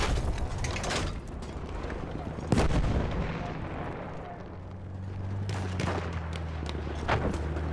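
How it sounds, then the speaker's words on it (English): Heavy artillery fire from the battlefield in the video game Battlefield 1, with booming blasts and rumbling impacts, and a voice speaking over the din. "Coordinates have been sent to our artillery."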